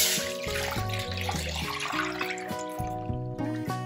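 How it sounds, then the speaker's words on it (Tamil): Water pours into ground rice paste in a pot while maambal is cooked, a close splashing and gurgling stream heard alone and fairly quietly. "இது கூட இன்னொரு 2 கப்ஸ் வாட்டர் ஆட் பண்ணுறேன்"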